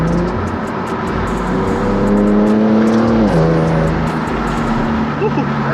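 An Infiniti Q60 with aftermarket intakes pulls hard under acceleration, its engine note climbing steadily in pitch, dropping briefly at a gear change near the middle, then rising again, loud and close from inside the car.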